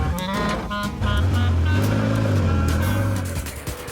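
A Ferrari F40 supercar drives along a road with speed humps, its engine a loud, close, steady growl that swells and holds from about one second onward.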